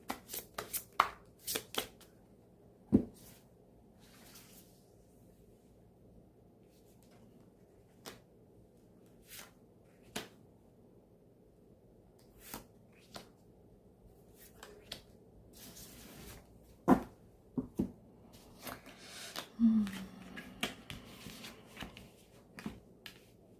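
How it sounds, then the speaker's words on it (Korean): Tarot cards being shuffled by hand, a run of soft riffling and tapping bursts spread across a quiet stretch with no talking, card handling close by and fairly faint. "섞는 거는 좀 한번 보여드릴까요?"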